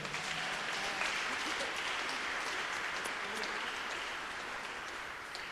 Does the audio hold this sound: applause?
yes